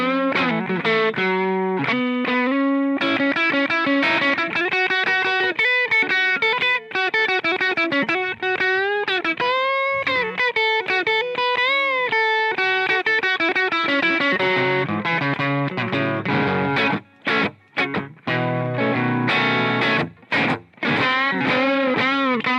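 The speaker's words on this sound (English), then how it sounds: "We have my normal blues overdrive, sort of. It's more like a tube overdrive sort of thing." Electric guitar through an Amplitube 5 amp simulator set to a bluesy tube overdrive, playing sustained distorted chords and melodic lines loud and alone, with a few sharp stops and rhythmic stabs toward the end.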